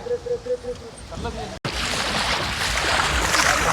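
Voices are heard briefly, then a loud, steady rush of water splashes continuously over an elephant, close by and filling the rest of the clip.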